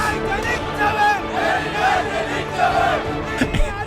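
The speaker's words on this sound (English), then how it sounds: "The crowd." A crowd roaring and shouting together in a thick, wavering swell of many voices. It is loud and continuous for a few seconds, with individual cries rising out of the mass.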